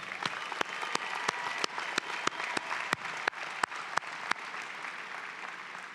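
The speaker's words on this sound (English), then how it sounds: "let's give yourselves another big round of applause for that" Graduates at a spring 2026 commencement clap together in sustained, even applause, with a few sharp individual claps standing out at regular intervals and no talking.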